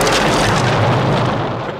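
A loud dynamite blast blowing up a clubhouse in the movie Monster Squad, a broad booming roar that fills the moment and slowly decays toward the end, with no voices.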